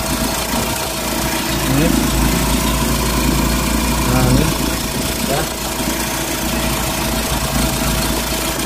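A 2009 Suzuki Carry 1.0 fuel-injected pickup idles smoothly with its engine bay open, a steady close mechanical hum and light ticking, while someone talks briefly over it.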